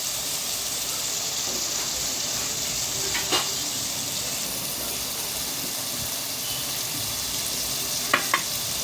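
Dried fish and egg curry stirred in a frying pan, village style, a steady close hiss of frying with a few brief scraping stirs, no talking.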